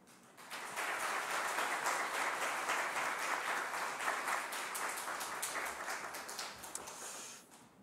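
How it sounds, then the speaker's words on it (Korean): A church congregation claps steadily to welcome a missionary, a dense, even wash of applause that starts abruptly, holds for about seven seconds, then tapers off, with no talk over it. "우리 하나님께 영광의 박수, 또 선교사님 격려의 박수로 우리 선교사님 모시도록 하겠습니다"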